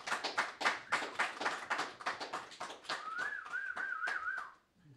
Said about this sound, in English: I'd like everyone to give a big round of applause for Andrew McDonald